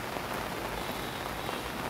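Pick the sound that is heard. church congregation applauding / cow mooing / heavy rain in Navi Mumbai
heavy rain in Navi Mumbai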